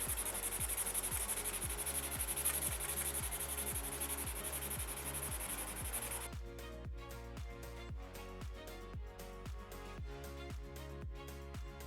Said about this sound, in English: I'm gonna sand with the 180 first at about 1200 RPMs